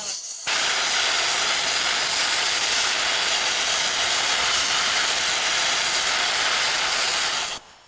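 Steam blasts in a loud, continuous hiss from a valve on a 12-ton steam tractor over 100 years old, starting abruptly and cutting off near the end.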